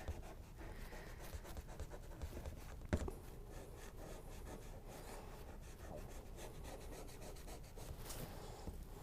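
Soft pastel scratches across sanded paper while a poppy petal is being painted, a quiet, close, steady rasp of repeated short strokes.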